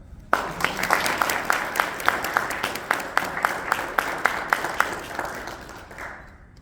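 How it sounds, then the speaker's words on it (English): An audience at a comic book awards event at C2E2 applauds, a dense clatter of clapping with sharper individual claps, steady for several seconds before tapering off quickly. "So a round of applause for Bill."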